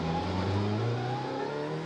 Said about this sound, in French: On revoit ce qu'il s'est passé à bord de la Golf numéro 4 de Guillaume Mondeau.